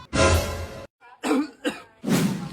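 A loud, close cough repeated in several harsh bursts with short gaps between them, heard on its own with no talking.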